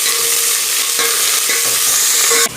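Crushed onion, garlic and curry leaves stirred in a hot pan for rasam, a close, steady sizzle with scraping strokes of a spoon and a sharp clatter at the very end.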